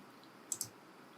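Two quick computer mouse clicks close together, crisp and close-miked over a quiet room hiss while photo-editing software is being used.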